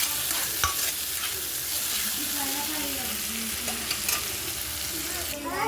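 Ginger garlic paste fries in a pan before mutton goes in, a constant loud sizzle with spatula scrapes and occasional clicks against the metal.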